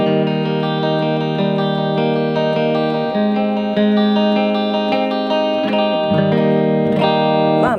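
Electric guitar played with a clean tone through a pedalboard with reverb, ringing sustained chords and picked notes that bloom and overlap, loud and close with a spacious tail and no talking.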